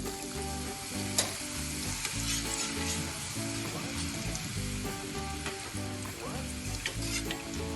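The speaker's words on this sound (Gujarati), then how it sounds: "ચિપ્સને પણ તળી લઈએ." Steady, loud sizzling of sweet potato chips frying in hot oil, crackling and bubbling continuously throughout with small pops, no voices.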